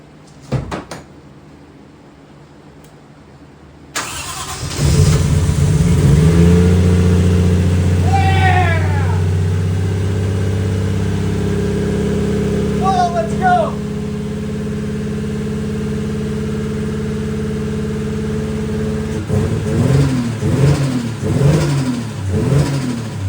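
A Toyota 1JZ engine swapped into a Mazda RX7 cranks and fires up on its first start, settling into a loud steady idle with a few throttle blips, and revs rising near the end; voices speak briefly over the engine.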